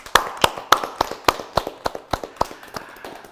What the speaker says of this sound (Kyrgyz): Эң сонун ой толгоңуз үчүн анда дүркүрөгөн кол чабуулар болсун